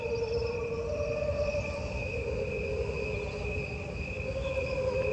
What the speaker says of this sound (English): It is recorded using only the sounds of the crickets.